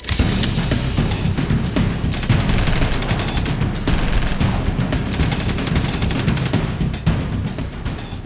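Dense machine gun fire in a dramatized battle scene, a loud, continuous rattle of rapid shots that never lets up, with no speech over it.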